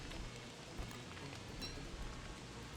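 Steady rain falls in the survival video game Don't Starve Together, a soft, even patter holding at low volume from start to finish with no other sounds.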